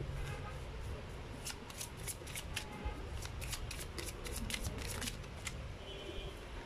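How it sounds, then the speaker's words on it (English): Archangel Oracle cards being shuffled in a steady run of quick riffling flutters and soft card slaps, close and continuous over a faint background hiss, with no talking. "let's try to pull out Archangel Oracle cards for you"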